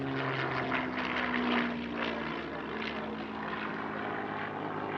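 Spitfire LF.16E low-flying fighter passing at an airshow at Villaroche, its piston engine and propeller giving a steady droning growl with a slowly shifting pitch, fairly loud and alone without voices.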